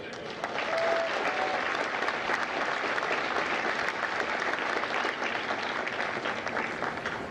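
Applause from a large outdoor crowd at a Marine Corps recruit graduation at MCRD San Diego, honoring the families, a continuous, even roar of many clapping hands heard from some distance.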